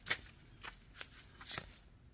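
Tarot cards drawn one after another from a deck: four brief, crisp papery swishes spaced about half a second apart, close and fairly quiet, with no talking.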